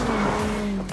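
A powerful 720-horsepower sports car engine roars at high revs, a loud steady tone that eases off near the end.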